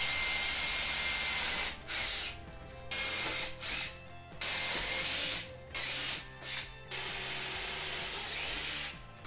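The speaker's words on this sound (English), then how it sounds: "I'm going to punch additional holes through." Bursts of a close mechanical punching and ratcheting sound, several short bouts separated by brief pauses, loud and harsh like a tool working through plastic.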